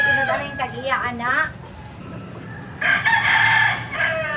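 A rooster crows twice, loud and close, with a rising, wavering call and a second brighter burst after a short pause, set in a comedy fantasy scene.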